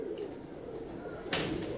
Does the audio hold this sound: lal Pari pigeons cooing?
yes